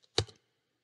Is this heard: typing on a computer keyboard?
yes